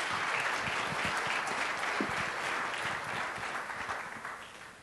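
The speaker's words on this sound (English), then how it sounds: "One more round of applause for Brennan." A conference hall crowd at the MivaCon 2014 keynotes breaks into sustained applause for a speaker, dense even clapping that stays strong before gradually thinning toward the end, with no talking over it.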